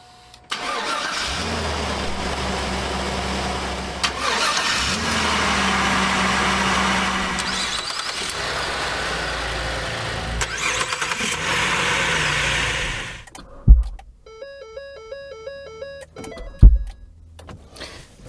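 A car in cold weather with a weak battery cranks for a long, loud, continuous stretch of strained starter whir before cutting off, followed by a few clunks and faint electronic chimes.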